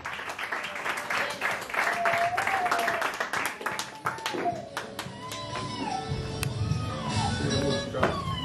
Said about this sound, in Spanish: Fuertes aplausos para Mariel, por favor.